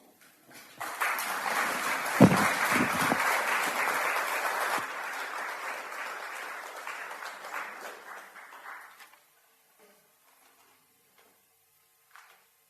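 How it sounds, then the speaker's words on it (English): An audience gives a round of applause for readers at a reading event, a dense, moderately loud burst of clapping that swells, holds for several seconds and then tapers off into near silence. "another round of applause to all the readers that have read so far"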